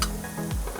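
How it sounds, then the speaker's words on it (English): Fresh mushrooms sauté in olive oil with garlic, giving a short, steady close sizzle. "Now we are sauteing mushroom."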